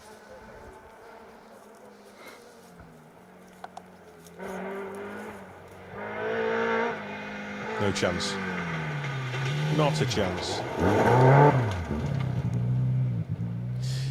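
A BMW E30 M3 rally car on a Welsh forest stage approaches and passes, engine note rising and swooping through gear changes, growing loud near the end, with a commentator talking over it.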